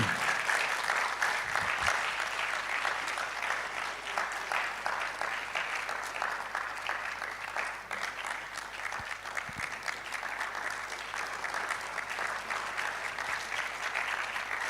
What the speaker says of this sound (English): If you won't clap for him, clap for God.